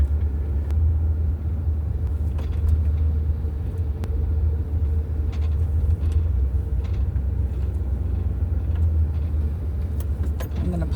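A car rumbles along at low speed while being driven to a parking spot, a steady deep engine and road drone with a few faint clicks and rattles above it.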